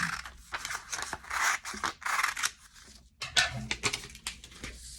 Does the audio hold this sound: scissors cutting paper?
yes